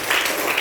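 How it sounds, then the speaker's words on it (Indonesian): A short burst of classroom applause for a student: a brief, dense patter of clapping with no break. "Tepuk tangan untuk Revan"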